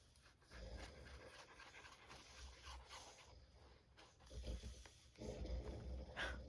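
A sleeping, dreaming dog gives soft, quiet snores and breaths in a slow rhythm, faint and close, in an otherwise still room.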